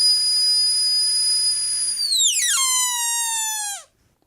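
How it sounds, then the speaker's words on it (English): High-pitched steam whistle giving one long steady tone that slides downward in pitch near the end and then cuts off, loud and alone. "I think it ought to make the mournful sound of that first whistle I showed."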